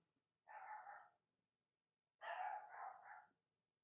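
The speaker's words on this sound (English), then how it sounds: "And more dogs." Dogs barking in the video game Pokémon Sword and Shield: The Crown Tundra, two short bursts of barking separated by a brief pause, fairly faint and with no talk.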